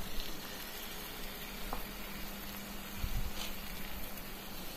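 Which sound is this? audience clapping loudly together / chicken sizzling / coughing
chicken sizzling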